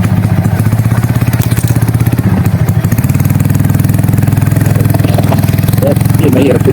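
A motorcycle labors along a rough trail, its engine chugging loud and close in a steady pulse with some clattering, and its pitch climbs slightly partway through.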